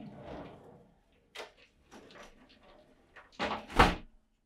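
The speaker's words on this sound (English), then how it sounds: "We have a lock for the slider door here on the shower." A sliding shower door in a 2024 Newmar Bay Star RV is moved and latched, giving a few soft scrapes and knocks followed by a louder, close clack near the end.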